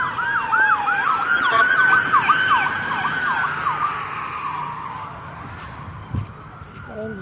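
A police siren wails nearby in a rapidly cycling yelp, then slides into a long falling tone and fades, with faint traffic and street background underneath.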